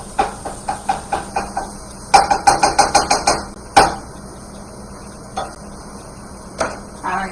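Pancake batter stirred in a pan with a utensil, a series of rhythmic scraping knocks in two bursts of about seven strokes each, followed by a few isolated scrapes, close and alone with a hiss of cooking underneath.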